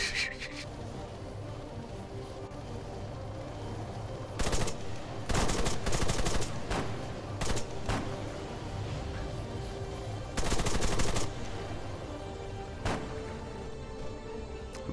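Automatic gunfire in ArmA 3, dense bursts of rapid shots in several clusters over a steady rumbling background, fairly loud and close, with sparse single shots between.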